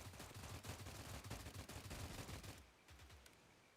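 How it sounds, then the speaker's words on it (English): Rapid bursts of distant gunfire in the video game STALCRAFT: X crackle continuously for a few seconds, then thin out into a few scattered shots. "Some gunshots up here."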